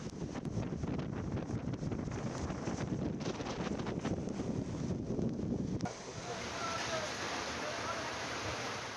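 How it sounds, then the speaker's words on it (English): Heavy winds buffet the microphone in a loud, continuous roar, with a sharper change in character about two thirds of the way through as the gusting steadies. "heavy winds,"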